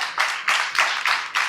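Audience clapping to welcome the Kenya Wildlife Service Director General at a public event, heard as several broad bursts that swell in quick succession, close and fairly loud with no talk over them.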